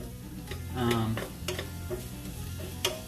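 Onions fry in a pan over a biogas stove, a soft sizzle under scraping stirs and light utensil taps, close and moderately loud.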